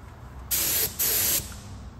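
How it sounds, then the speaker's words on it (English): A spray gun applies undercoating to a 1972 Toyota Corolla in two short, sharp hissing bursts about half a second long, close and loud over a faint background hum. "So I'm gonna turn up the pressure and hopefully it sprays better."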